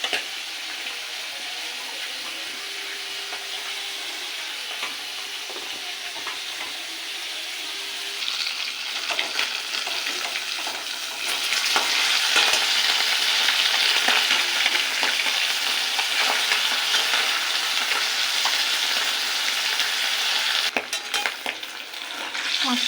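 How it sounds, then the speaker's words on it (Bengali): Terra fish fries in hot oil in a pan, a continuous close sizzle that grows louder midway, with occasional stirring clatter and no talk. "মাছটা ভাজা হয়ে গেছে, এবার তুলে নেব।"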